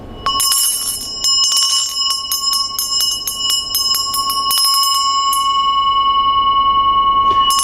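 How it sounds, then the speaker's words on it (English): A ritual hand bell rings with quick repeated strokes, bright and close, then gives way to a long sustained ring that slowly fades, with no talking. "And when you ring the bell,"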